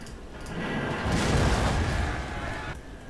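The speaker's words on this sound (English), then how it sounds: "there we can see the overpoweringness of those artillery pieces" Artillery pieces firing on a Napoleon: Total War battlefield, blending into a deep, rolling rumble of volleys that swells and then fades over a few seconds.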